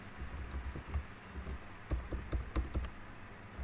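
Quiet keystrokes on a computer keyboard as a new password is typed, irregular clusters of soft taps across a low background hum.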